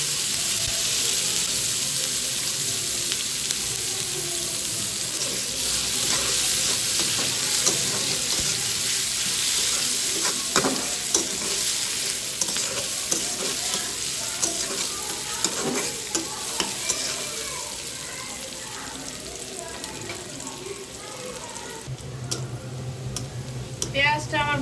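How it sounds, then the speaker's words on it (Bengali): Chopped onions fry in white oil in a pan while shrimp curry is being prepared, a steady close sizzle with repeated scraping stir strokes throughout and a brief faucet-like rush near the end. "পেঁয়াজটা আমার ভাজা হয়ে গেল"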